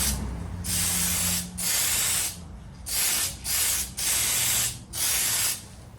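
Spray can applying a heavier third coat of paint to a 1987 Kyosho Cosmo RC car body, heard as six separate steady hissing bursts about half a second to a second long, each followed by a short pause, close and clear with no voices.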